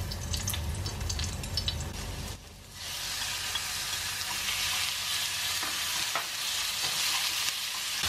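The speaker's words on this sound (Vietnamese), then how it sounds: "Vậy là mình xào sơ thôi nha các bạn." Meat and shrimp stir-fried with garlic and shallots for Da Nang-style banh xeo filling sizzle loudly and continuously in a pan, with a brief dip as food is stirred before the frying hiss surges back.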